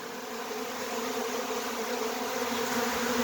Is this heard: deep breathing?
no